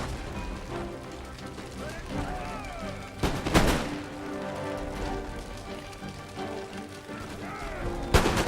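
Musket volleys crackle in a Total War: Empire battle, a dense rolling fusillade under a steady din of battlefield noise, with loud bursts standing out near three and eight seconds.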